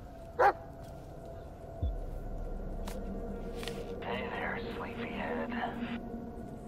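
Dog in the Blair Witch game giving a short sharp bark, followed by quieter rustling and a soft breathy whine or whisper-like sound in the background.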